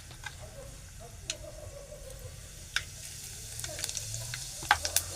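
Mustard seeds and cumin in hot oil in a pan: faint steady sizzle with scattered sharp ticks and pops growing busier toward the end, plus a low background hum.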